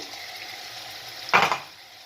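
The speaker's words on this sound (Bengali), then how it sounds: "পেঁয়াজ রসুন ভাজা হতেই মশলাটা দিলাম আর টমেটো সঙ্গে যেটা মশলা ঢেলেছিল" Soft steady sizzle of spices frying with onion, garlic and tomato in a pan for a prawn and soya dumpling curry, with one brief louder scrape or stir partway through.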